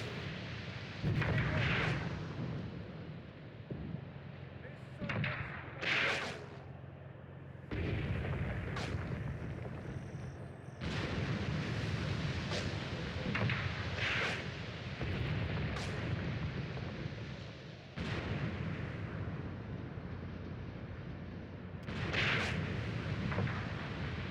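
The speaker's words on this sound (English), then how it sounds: "Enemy artillery strikes, not that bad." Enemy artillery strikes in the WWII tank game Tank Warfare: Tunisia 1943, a string of heavy booms and rumbling blasts spread across the stretch over a constant low engine drone.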